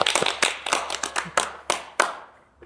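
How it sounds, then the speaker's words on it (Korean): Hand claps at a Korean talk show, a few people clapping in loose, irregular bursts of sharp close slaps that fade out after a couple of seconds. "다시 한번 박수"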